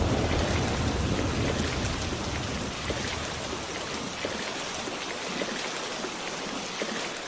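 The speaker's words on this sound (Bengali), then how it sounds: "দেখছিস না বৃষ্টির কি তেজ" Heavy rain pours down in a cartoon rainstorm, a steady dense hiss of drops beating on surfaces with a faint rumble of thunder, loud and continuous throughout with no voices.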